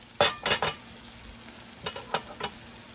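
Onion, tomato and garlic sautéing in a hot pan, with a few sharp bursts of sizzle and stirring scrapes clustered early, then quieter sizzling and a couple more stir strokes, close up and with no one talking.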